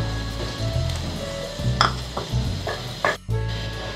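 Tomato-yogurt masala stirred and fried in a pan for besan altay paltay, a steady sizzle with a spoon scraping and clinking against the metal in repeated strokes, close and fairly loud with no talking.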